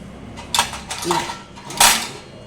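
Metal spoons clink and clatter as they are set into a plate and a hanging spoon holder. A few bright, separate knocks and jangles sound close by, and there is no talk.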